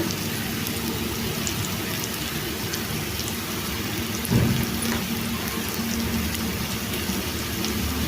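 Pieces of bottle gourd fry in hot oil with a dense, steady crackling hiss that stays even throughout, close and fairly loud, with one brief clink partway through.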